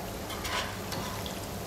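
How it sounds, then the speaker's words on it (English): Plantain pieces fry in a pan with a steady soft sizzle and light crackle, fairly quiet and close, with no voices. "While my plantain is frying"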